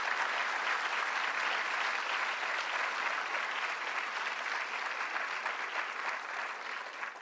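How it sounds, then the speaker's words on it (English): A room full of people applauding honorees at a governor-hosted film screening, a steady wash of clapping that holds evenly and fades slightly toward the end. "One more round of applause."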